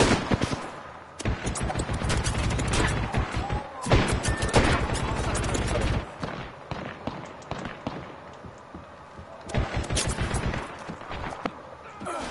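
Apex Legends gunfire in rapid bursts of sharp cracks, several clustered volleys separated by brief pauses, loud and close, with a faint voice in places.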